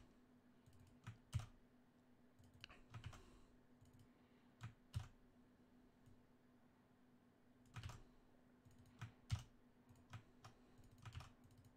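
Someone types code on a computer keyboard in a quiet room, producing bursts of clustered key clicks with short pauses between runs, close and fairly soft.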